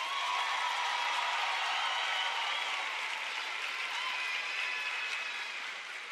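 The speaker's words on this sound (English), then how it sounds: "That applause means the world to us." A graduation audience applauds the high school class of 2026, a dense, steady wash of clapping that holds evenly throughout at moderate level.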